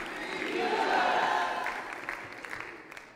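Church congregation praising and shouting during a revival sermon, a broad crowd roar of voices swelling in the first second and slowly fading, with scattered individual shouts near the end.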